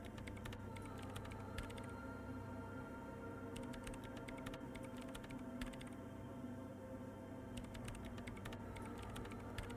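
Computer keyboard typing within the Disco Elysium soundtrack, bursts of quick clicking keystrokes over a sustained low musical drone, fairly quiet.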